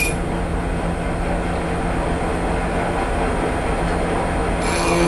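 A high-speed steel slitting saw cuts a 4.5 mm pass on a lathe under lubrication. A steady, dense mechanical whir holds at an even level through the whole stretch.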